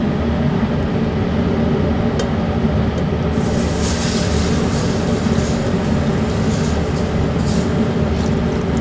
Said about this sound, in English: At this time, I'm gonna add 1 quart plus 1 cup of stock.